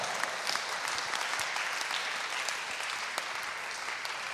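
A church congregation claps during a Swahili revival prayer service, filling the room with dense, continuous applause at moderate volume, with no voices standing out.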